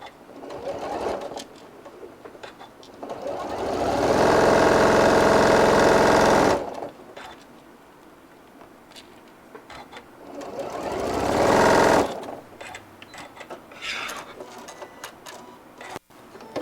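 A sewing machine stitches the seams of a brim hat in two sustained loud runs, separated by quieter pauses with light handling noise and soft clicks.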